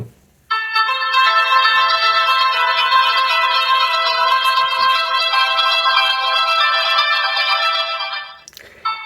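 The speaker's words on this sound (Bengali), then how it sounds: "প্রথমে আমরা এই ফোনটির যে রিংটোনের সাউন্ড সেটা একটু ট্রাই করব" A bright electronic ringtone from an Amigo Ms21 button phone plays a looping melody, loud and steady for several seconds before cutting off.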